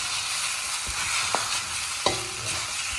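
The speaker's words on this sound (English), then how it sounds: "we will add in 1/2 teaspoon of turmeric powder and we will stir for about 10 seconds" Turmeric powder being stirred into a hot frying mixture in a pan for potato paratha filling, a loud continuous sizzle with a few sharp scrapes of the spatula against the pan, no voices.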